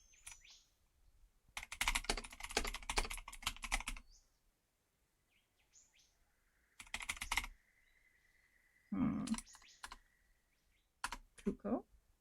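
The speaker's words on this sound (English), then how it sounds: "You guys are gonna hear a lot of sudden typing" Bursts of fast, forceful typing clatter on a computer keyboard in a close, dry room, with quiet gaps between the flurries and a brief stretch of speech near the end.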